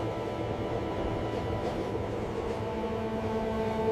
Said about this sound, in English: The train was heading deeper into it.